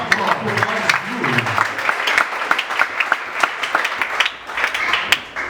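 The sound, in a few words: church congregation applauding loudly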